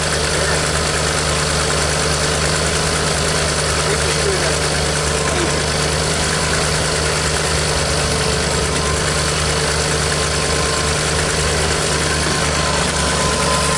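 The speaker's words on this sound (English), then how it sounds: "Yeah, we'll just let it idle a little bit." Old Ford truck engine idling steadily and close by, a continuous low rumble with a slight lifter rattle running throughout.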